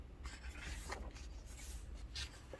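Heavyweight drawing paper rustles and rubs as sheets in a sketchbook are handled and flipped, a faint, close scraping texture with a few soft swishes.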